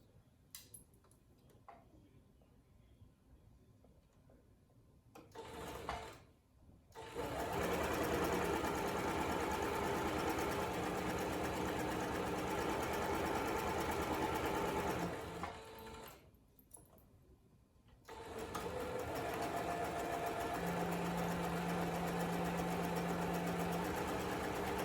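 Sewing machine joining two fabric pieces of a face mask: a brief run, then two long, steady whirring stretches with a short pause between, close and moderately loud with no talk.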